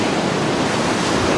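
Ocean surf rolling onto a beach at Hatteras, a steady dense wash of breaking waves and foam with some wind, loud and continuous without a break.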